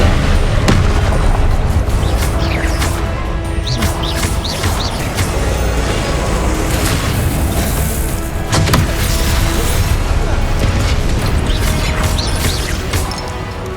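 Repeated Confringo blasting-spell explosions in Hogwarts Legacy, a dense run of loud booms, crashes and impact bursts with little pause across the whole stretch.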